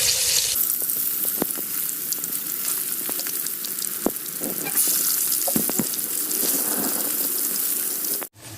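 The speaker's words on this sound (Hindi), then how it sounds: "कढ़ाई में हमने घी ले लिया है। अभी हम इनको फ्राई करेंगे।" Stuffed bitter gourds fry in ghee in a wok, making a steady loud sizzle with scattered crackles and pops throughout, cutting off abruptly at the end.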